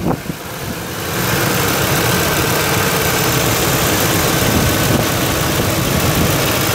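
A 2005 Ford Expedition engine starts and settles into a steady, loud idle with a broad continuous rumble, heard close up with the hood open and no talking.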